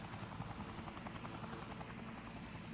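Steady helicopter rotor drone from Yakuza 4 Remastered, a continuous loud buzzing thrum that holds level throughout with no break.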